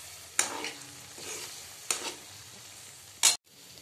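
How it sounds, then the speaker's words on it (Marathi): Ground masala paste sizzles steadily in hot oil for a crab curry, with three sharp scraping stirs cutting through the close, continuous frying hiss. No voices. "हे वाटण आपल्याला तेल सुटेपर्यंत व्यवस्थित फ्राय करून घ्यायचे आहे."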